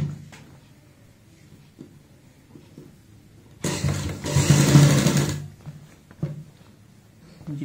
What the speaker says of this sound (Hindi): अब हम यहाँ पे ऊपर से इसको सिलाई से फिक्स कर देंगे यहाँ पे ऐसे।